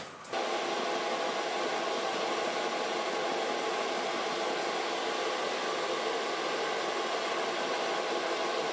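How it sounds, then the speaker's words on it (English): A hair dryer blows steadily while drying a blonde bob, a loud, constant close-up whooshing hiss that switches on at the start and runs without pause. "And I'm gonna give her a lot of volume to blow dry"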